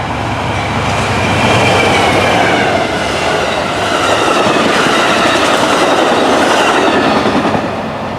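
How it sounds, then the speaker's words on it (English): Amtrak's southbound Texas Eagle, led by a BNSF locomotive, passes on Union Pacific's Austin Subdivision in North Austin, a loud continuous roar of passenger cars with rhythmic wheel clatter and faint flange squeal, close by. "Our first train is Amtrak Train 22, the daily southbound Texas Eagle, only today it was led by a BNSF-9"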